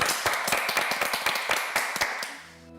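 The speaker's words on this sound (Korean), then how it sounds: "박수 한번 주시고 교수님께." A small audience at a Korean nursing school talk claps for a professor, a scattered burst of individual claps that fades out after a couple of seconds.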